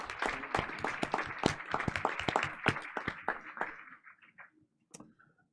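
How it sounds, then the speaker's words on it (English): Audience applause for a troupe of Philippine folk dancers at a school board meeting, dense overlapping claps that thin out and fade toward the end, with one last lone clap. "Let's get another round of applause."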